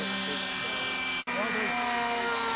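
Small RC model airplane engine spinning a propeller at a flying field, a steady buzzing whine with a brief sharp cutout midway, while people talk nearby.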